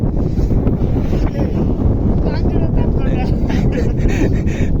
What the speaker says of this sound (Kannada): ಆರಾಮಾಗಿ ಗಾಳಿ ಬೀಸ್ತಿತ್ತು ಇವಾಗ ನಮಗೆ